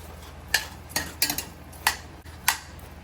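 A utensil scrapes and knocks against a cooking pot while onion and cabbage are stirred, giving about six sharp clinks spaced unevenly over a low steady hum, close by.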